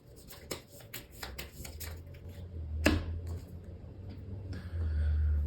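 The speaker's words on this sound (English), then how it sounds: "I forgot to take this one back and shuffle it into Clark's deck" Rapid riffling clicks of playing cards being shuffled in quick bursts, then a sharp snap, followed by a low steady hum.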